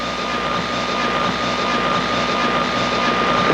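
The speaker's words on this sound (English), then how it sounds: "the one they call Crazy Ted Nugent, who came in by chopper" Steady, continuous aircraft-like engine drone of a helicopter arriving at the Long Beach race circuit for a celebrity race, a broad constant roar with a faint tonal hum, no voices.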